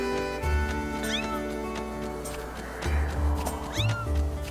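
A cat meows repeatedly in the video game Skyward Sword, several short rising cries spread across a busy backdrop of game music and ambient tones.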